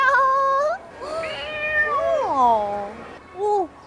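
A cat meows among cacti in a succulent garden at Gardens by the Bay in Singapore: three close, clear meows, a short one, a long drawn-out wavering one, then a brief final mew, with no talk.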